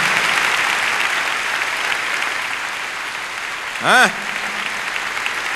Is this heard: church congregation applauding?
yes